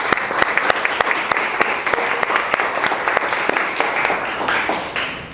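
An audience at a student final presentation applauds steadily, dense clapping at an even level throughout, with no pause or fade until a slight drop at the very end.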